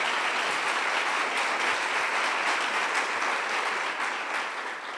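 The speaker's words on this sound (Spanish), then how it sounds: "Si le va a dar un aplauso, déselo" A church congregation claps for God during a Spanish-language sermon, full and sustained, many hands at an even level that eases off slightly at the end.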